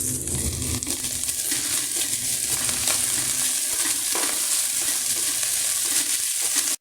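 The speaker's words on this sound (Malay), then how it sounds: "Now we sauteing our Holland onion, bawang Holland kita masukkan. Tumiskan sekali dengan daun sup ni." Holland onion and soup leaves sizzle steadily in hot olive oil for a Portuguese fish soup, with a continuous loud frying hiss and occasional stirring scrapes throughout.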